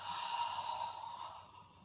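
A single slow, controlled exhale during a Pilates exercise, a soft, faint breath of air lasting a couple of seconds and fading near the end.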